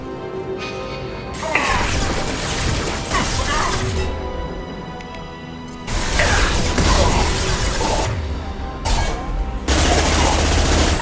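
A Mass Effect 2 firefight: bursts of rapid gunfire and mechanical clatter crowd together, loud and near, with brief lulls between volleys and a voice speaking at moments.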